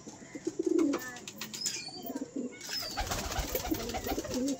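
A Giriraj pigeon coos in low, rolling phrases, repeated several times close by, with faint chirps and a few brief higher calls in the background.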